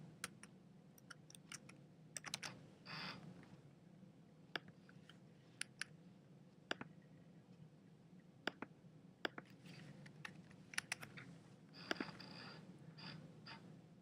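Keys clicking on a computer keyboard as an author's name is typed in, short quiet bursts of taps with pauses between them, close and alone over a low steady room hum.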